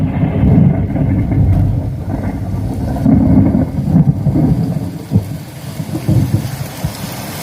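A staged thunderstorm effect for a Ganesh festival decoration display: heavy rain roars steadily under deep, rolling thunder rumbles that swell and fade, loud and close throughout.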